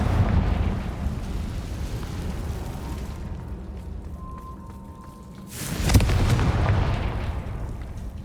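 The Confringo explosion spell in the Hogwarts Legacy video game goes off as a sudden deep blast that swells into a rumbling roar after a quieter, hollow ambience.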